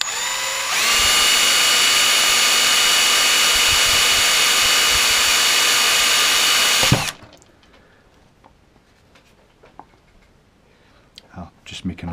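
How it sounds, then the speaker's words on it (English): A slightly blunt power drill bores a hole for an LED, whining loud and steady for about seven seconds before stopping abruptly, followed by quiet clicks and small handling noises. "So I'm just going to take a drill, a slightly blunt drill, deliberately so."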